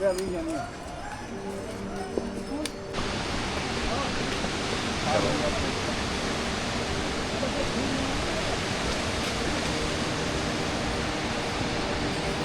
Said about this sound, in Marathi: बघू शकता तुम्ही किती डोंगरातून पाणी येतोय आणि एकत्र येऊन यमुना नदी तयार होते